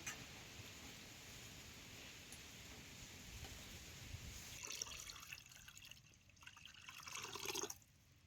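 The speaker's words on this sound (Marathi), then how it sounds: "आता तुम्हाला जेवढा रस्सा करायचा आहे तेवढं त्यात पाणी घालायचं." Water is poured into a fish curry pot on a wood-fired stove, a quiet steady trickle that grows into splashing and bubbling toward the end.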